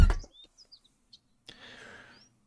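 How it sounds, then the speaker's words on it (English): Small birds outside give a few faint, scattered high chirps after a brief loud thump, with a soft rustling patch partway through, distant and sparse with no talk. "There's birds outside. Noisy little fuckers."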